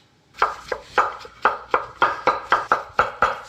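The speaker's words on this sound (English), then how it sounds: "So you take all of the mushroom stems and cut them up in small pieces" Knife chopping mushroom stems into small pieces on a board, about a dozen crisp, evenly spaced cuts in a steady rhythm, close and clear with no talk.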